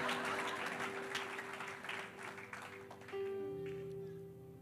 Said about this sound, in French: Là, je crois que ce sont les fameux enfants qui sont en train d'acclamer.